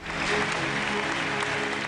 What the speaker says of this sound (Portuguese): com muitos aplausos